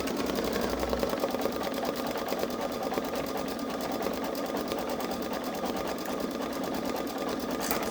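A Babylock Solaris Vision embroidery sewing machine stitches a design at a steady fast whirring rhythm, close and continuous, with no talk.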